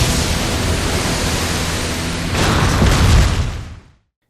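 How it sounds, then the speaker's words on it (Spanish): Anime explosion ending the fight between Deku and Todoroki in Boku no Hero Academia, a dense roaring blast that holds steady, swells into a louder boom, then cuts off abruptly. "el último instante del combate entre Deku y Todoroki, que genera una explosión brutal."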